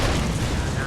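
A fiery explosion in Dragon Age Inquisition, a loud, dense, booming roar that fills the whole brief moment with low rumble and crackle, with a voice partly mixed in.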